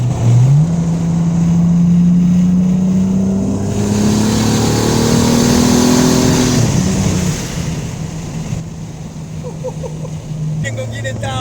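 Turbocharged 2JZ engine swapped into a GR86, revving hard under boost: a loud, close, rising engine drone that climbs, holds and then drops back to a rougher idle, with voices talking over it.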